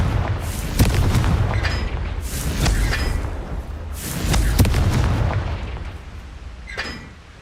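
Repeated booming blasts from the Confringo fire spell in the Hogwarts Legacy video game, several heavy explosive thumps spaced a second or two apart over a rumbling battle background.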